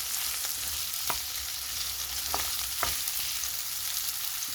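Onion frying with beef in a pan is stirred, giving a steady bright sizzle with a few sharp scraping clicks of the utensil, fairly faint and with no talking.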